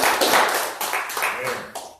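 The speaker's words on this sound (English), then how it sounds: "Give the Lord a hand clap of praise." A church congregation claps hands in praise, a short burst of overlapping claps mixed with voices and shouts, loud at first and trailing off within about two seconds.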